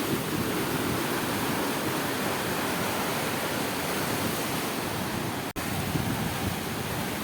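Rough sea waves crashing and splashing on the shore at a Koli fishing village beach, a loud continuous roar of surf with no pause and no voices.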